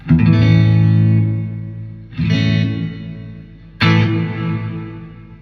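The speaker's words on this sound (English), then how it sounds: "Let's see how big that reverb gets." Electric guitar through a Crate FlexWave 120/212 amplifier with reverb turned all the way up: three strummed chords, each ringing out and decaying into a long wash of reverb, loud and close with no talk.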